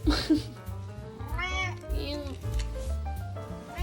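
A cat named Nabi meows repeatedly while eating a Churu lickable treat, giving several drawn-out, rising and falling meows close by, mixed with people talking.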